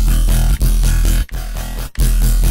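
Heavily distorted bass run through an Ableton amp effect set for crunch, a loud, dense, gritty tone in choppy bursts with two brief gaps, no talking.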